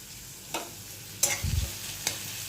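Chopped onion frying in a pan on a gas stove with the flame turned up. A soft, quiet sizzle runs under a few sharp clicks and scrapes of a stirring utensil, with a brief low thud midway.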